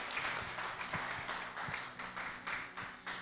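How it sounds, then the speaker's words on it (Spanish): Church congregation applauds after a pastor's sermon, a steady wash of many hands clapping at moderate distance, fairly quiet, with a few louder individual claps standing out. "Démosle un fuerte aplauso a Dios por la vida de la pastora"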